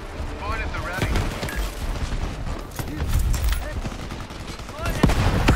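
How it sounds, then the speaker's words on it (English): Gunfire and explosive blasts from a Shatterline shooter match, including a grenade launcher, rattle densely and continuously at close range, with someone talking over the action. "Tried to grenade that."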